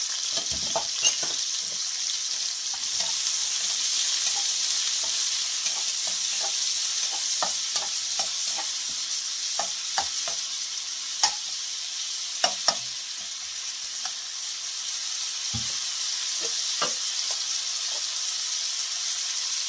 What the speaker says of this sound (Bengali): দুইটা পেঁয়াজ কুচিয়ে নিয়েছি, দিয়ে দিব। 4-5টা রসুনের সাথে কুচিয়ে নিয়েছি, সবগুলো আমি ভেজে নেব।